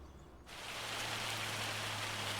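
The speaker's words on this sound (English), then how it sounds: "It's raining" Rain begins abruptly in Farming Simulator 25 on a rice field at Riverbend Springs, jumping from a quiet low hum to a steady, even hiss of rainfall that continues unbroken.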